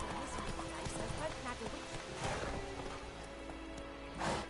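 Hooves of the horse Roach clip-clopping at a run in The Witcher 3, a steady rapid patter under game ambience with faint rain, while a voice speaks over it.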